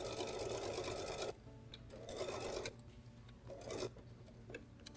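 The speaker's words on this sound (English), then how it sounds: "we're going to go ahead and put that into the machine" Sewing machine stitching tote bag panels in three close bursts of rapid mechanical whirring, separated by short pauses with faint clicks.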